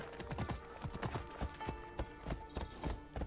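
Rhythmic clip-clop of a horse's hooves in the video game Assassin's Creed Shadows: steady, evenly paced hoofbeats heard close, with faint game ambience underneath and no talking.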